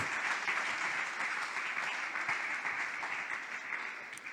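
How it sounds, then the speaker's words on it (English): A church congregation claps for Jesus in a full, continuous round of applause that stays even throughout, with no speech over it. "Let's clap hands for Jesus"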